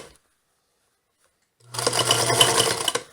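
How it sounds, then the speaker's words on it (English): A sewing machine stitching fur to leather runs up after a short silence into a loud, steady, close whirring buzz that continues to the end. "you want to be sewing now between these two"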